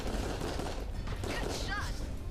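Enemy gunfire in the VR shooter game Raw Data, a steady loud barrage of overlapping shots filling the whole stretch, with a speaking voice partly underneath.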